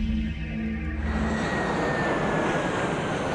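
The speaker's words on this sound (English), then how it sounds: "We're going to send the jet that way." Jet aircraft from the Alpha Centauri strategy video game, a steady loud engine roar that swells in after about a second and holds as a continuous whoosh, with low hum at the start and no talk.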